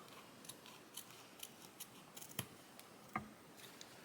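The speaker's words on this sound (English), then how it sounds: "I'm going to cut along that straight fold line." Very sharp Karen K. Buckley scissors snip along a straight fold line in embroidered fabric, a series of faint, close crisp clicks and short cuts with one louder snip near the end.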